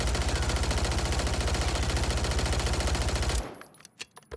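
A gun in the Warzone video game fires in one long rapid automatic burst with an even rhythm, loud and close for over three seconds, then stops abruptly, leaving a few faint clicks.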